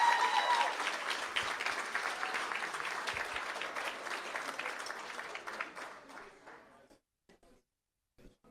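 An audience at a board meeting claps in a round of sustained applause that gradually thins and fades out, ending in a few scattered claps.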